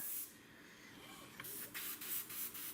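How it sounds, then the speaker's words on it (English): Light spray bursts from a spray bottle onto masking tape over a decal during the build of a Flightline 1600mm Corsair RC model, about four or five short quiet hisses in quick succession after a faint opening spray. "So you're just going to spray onto the tape, not onto the decal itself."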